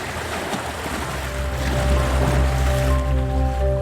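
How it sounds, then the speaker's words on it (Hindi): Sea waves splashing in a steady wash of broad rushing water, with a low droning hum rising beneath it partway through, continuous and fairly close. "एक लहर से छिटका पानी उनके चेहरे पर पड़ गया।"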